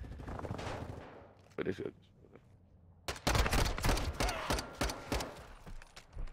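Rapid gunfire rattles through a Search and Destroy match in a first-person shooter, with a lull and then dense bursts of shots and impacts, while players talk over the action.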